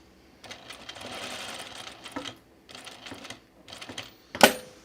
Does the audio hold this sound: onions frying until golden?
no